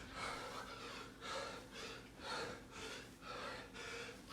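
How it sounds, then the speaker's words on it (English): Heavy, rhythmic breathing after a round of leg raises and squats, about eight quiet, close in-and-out breaths in steady succession, with no talk. "Can you hear the breathing?"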